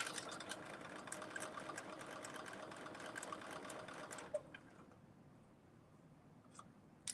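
A sewing machine runs steadily with rapid mechanical stitching for about four seconds, then stops, leaving a quiet room with a few small clicks.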